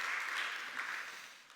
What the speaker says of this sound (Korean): 우리 박수 드리겠습니다.